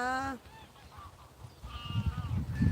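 Geese honk loudly in a short harmonic burst at the start, then call more faintly over a low, rumbling outdoor background at a scenic spot with ducks and birds.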